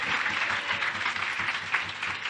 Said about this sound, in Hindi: वेट, तालियां मत बजाइए।